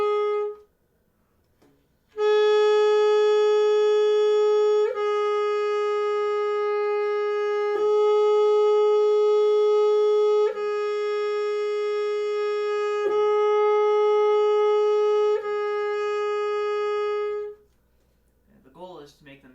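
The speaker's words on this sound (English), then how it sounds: "And then I'm going to go to F, just regular F." A saxophone plays a regular F, held steadily as a long tone with several tiny breaks, close and clear for about fifteen seconds, with brief quiet moments before and after.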